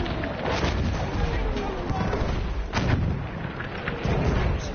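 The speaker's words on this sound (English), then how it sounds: "Artillery!" Battlefield 1 artillery shells land nearby in a dense battlefield din. Heavy booms and thuds arrive at irregular intervals, including a strong hit near the three-second mark, under a constant rumble.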